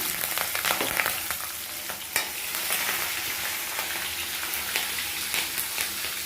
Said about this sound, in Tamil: இப்போ இந்த நறுக்கி வச்ச பச்சை மிளகாய் போடுவேன்